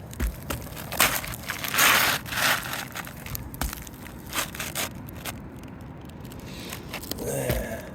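A roofing shingle is cut during a roof repair, a close, crunchy crackle of rough material giving way in a few scraping strokes, with no speech.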